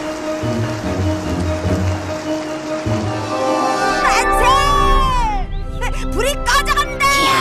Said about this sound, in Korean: 갑자기 비가 내리다니